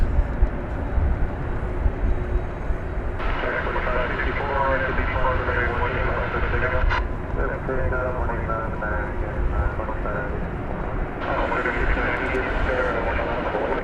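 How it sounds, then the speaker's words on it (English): A Frontier airliner arriving from Denver rumbles steadily at Dallas Fort Worth airport, a continuous broad jet roar that swells and fades, with people talking over it. "Frontier flight from Denver is arriving at this moment."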